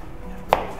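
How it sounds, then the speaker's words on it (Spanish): A single crisp knife chop on a cutting board while an onion is diced into fine brunoise, a short sharp knock standing out against a quiet kitchen background. "Y la cebolla la cortamos en brunoise."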